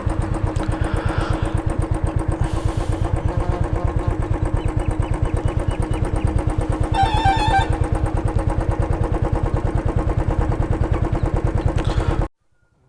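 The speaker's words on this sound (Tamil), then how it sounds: "பைக்கு வேறு மக்கார் பண்ணுது." A motorcycle engine that keeps cutting out runs close and loud with a fast, uneven chugging beat, with a brief rattling burst midway, then stops abruptly near the end.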